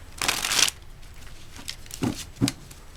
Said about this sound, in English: Let's pull some more of these cards.